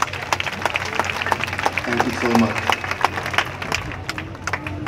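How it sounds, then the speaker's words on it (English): Applause from an audience at the Barbados Independence lighting ceremony, a steady patter of clapping spread through a crowd, partly masked by a speaker's voice over it. "Ladies and gentlemen, I think that deserves a round of applause."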